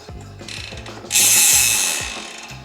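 Bicycle freehub ratchet on a Scott Spark RC Pro 2022 rear wheel, close and loud, with rhythmic clicking pawl bursts followed by a fast continuous buzzing spin that slowly fades.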